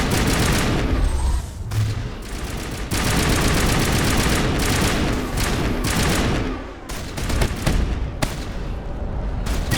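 Sustained gunfire in the Mass Effect video game rattles on almost without pause, dense bursts of automatic shots and heavy blasts crowding the scene, loud and close with only brief lulls.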